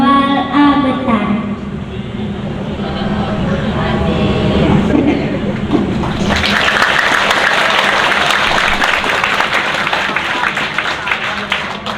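A school audience at an Iftar gathering claps for an elementary pupil's recital, loud continuous applause that starts under a voice and then swells into a bright, dense wash of hands for the rest of the stretch.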